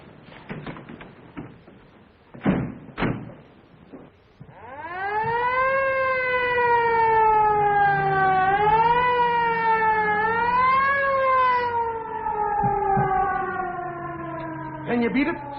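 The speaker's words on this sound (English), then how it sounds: "Follow that ambulance." A long wailing ambulance siren in a 1938 city chase rises up and sweeps in repeated up-and-down cycles, loud and sustained for about ten seconds after a few door-like knocks and bumps at the start.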